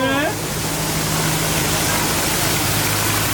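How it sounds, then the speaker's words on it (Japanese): A waterfall on the Tokyo Disneyland Jungle Cruise ride at night roars as a steady, loud, broadband wash of falling water, with a guide's voice briefly heard at the start. "あこれから滝の裏の入っていきます。"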